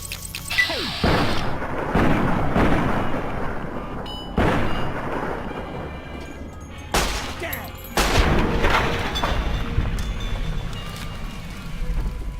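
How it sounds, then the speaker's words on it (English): Gunfire in the video game Fallout New Vegas, loud broadband blasts and sustained rumbling bursts with brief gaps between them, dense and close over several seconds. "Or else I shoot you in the head."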